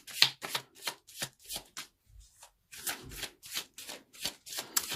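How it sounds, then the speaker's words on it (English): Tarot cards being shuffled by hand in a series of rapid, riffling bursts separated by short pauses, fairly close and moderately loud, with no talking over it. "let's pull a few additional cards"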